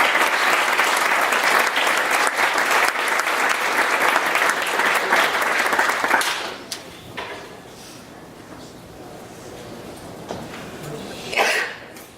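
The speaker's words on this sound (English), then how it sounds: "let's give him a round of applause and welcome him" Seminar audience applauding to welcome a speaker, loud sustained clapping for about six seconds, then dying away into quiet room noise with a few shuffles and a cough.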